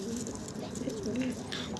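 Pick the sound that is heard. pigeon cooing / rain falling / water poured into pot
pigeon cooing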